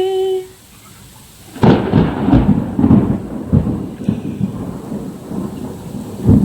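Sudden loud thunder breaks a brief quiet, then rolls on with heavy rain pounding steadily, rumbling close and loud.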